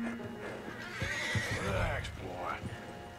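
A horse in the video game Red Dead Redemption 2 lets out a close, loud whinny with a wavering, rising-and-falling cry, followed by a second shorter neigh, with faint hoof clops and background ambience.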